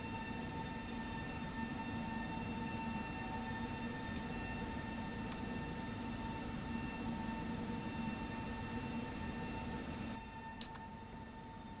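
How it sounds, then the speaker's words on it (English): A Pendolino ED250 train in the SimRail simulator rolls along with a steady rumble and sustained electric whine, broken by a few faint clicks and a brief change near the end, with no talking. "That's how you get the train moving."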